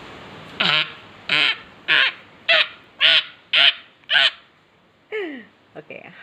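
A child imitates a monkey with a rhythmic run of seven short, hooting vocal calls, then a longer falling call and a couple of quick final yelps, close and clear.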